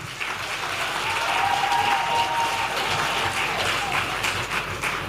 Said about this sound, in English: I want to hear a proper clap for the staff of Utel